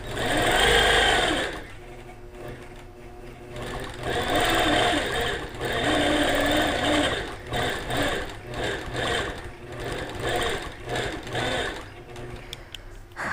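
A sewing machine stitches a free-motion quilting design in fast, buzzing bursts of varying length, stopping and restarting several times, close and fairly loud with no talking.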